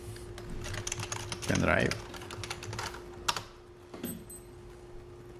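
Computer keyboard typing during a 3ds Max and KeyShot rendering session, with a Control S save shortcut pressed, a run of light rapid key clicks and a sharper keystroke near the end, while someone briefly speaks.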